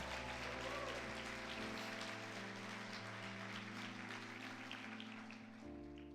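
A church congregation at a Sunday service applauds with steady, dense clapping that fills the room, under a sustained organ or keyboard chord that shifts partway through, with no voices standing out.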